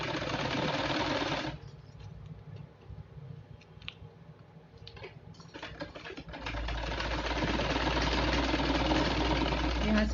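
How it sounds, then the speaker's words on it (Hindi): A sewing machine stitches a cloth pocket in close, steady runs of rapid stitching, pausing briefly in the middle before running on again, fairly quiet. "यहाँ से सिलाई लग गई"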